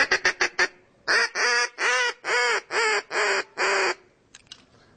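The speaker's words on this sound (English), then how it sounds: "You blow the duck call," A duck call blown in a dog-training session: a quick burst of five short clipped quacks, then six longer, drawn-out loud quacks in steady rhythm, followed by a few faint trailing notes.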